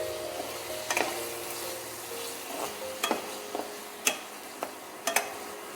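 Ingredients for mixed fried rice frying in a pan, a low sizzle under repeated sharp clacks and scrapes of a spatula stirring against the metal at uneven intervals.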